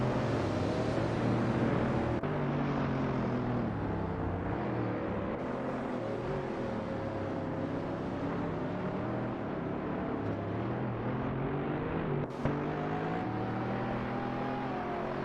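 Race cars lapping Zolder circuit in a racing video game, a continuous blend of several engines droning and shifting pitch as they run close together, with a brief sharp knock near the end.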